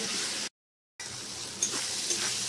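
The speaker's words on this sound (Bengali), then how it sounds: "এবার এর মধ্যে কাজু বাটাটা দিয়ে দেবো। ভালো করে কষিয়ে নেব।" Cashew paste frying with cooked-down tomato in a pan, a soft steady sizzle broken by a brief silent gap, then resuming with a few small pops and spatters.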